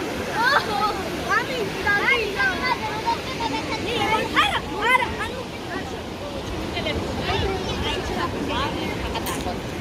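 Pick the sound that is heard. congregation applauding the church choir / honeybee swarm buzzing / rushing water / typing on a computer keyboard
rushing water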